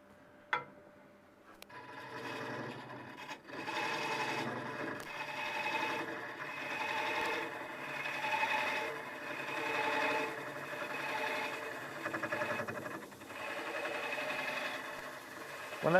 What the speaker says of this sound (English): Having a swivel head lathe makes life a lot easier.